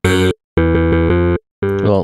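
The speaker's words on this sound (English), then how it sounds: "Well, louder with a bit of distortion." Loud music through a plate reverb effect being mixed for a song, with a slight added distortion, playing in sustained harmonic bursts separated by short gaps.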